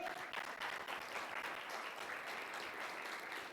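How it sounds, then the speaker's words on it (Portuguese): A church congregation applauds, a steady, fairly faint wash of many hands clapping together throughout. "Aplauda ao Senhor."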